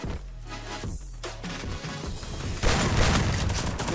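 Bursts of rapid gunfire crackle in Free Fire, sharp repeated shots building into a loud, dense volley toward the end.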